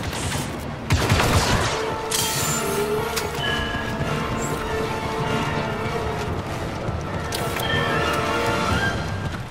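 Blaster fire rattles through a Star Wars Battlefront 2 battle in dense, overlapping bursts, with sharp zaps, impacts and game noise layered throughout.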